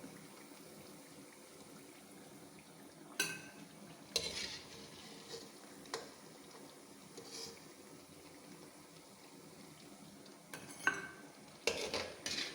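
Parippu vada, Kerala lentil fritters, sizzle quietly in hot coconut oil with a soft continuous frying hiss, broken by several sharp scraping clinks of a ladle stirring and lifting them from the pan.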